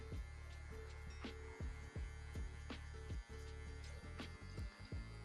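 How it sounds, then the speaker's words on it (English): Electric hair clippers buzz steadily and up close, their corner working through hair during a fade, with a constant motor hum broken by short repeated dips and scratchy strokes as the blade moves toward the back of the head. "using the corner of the clipper"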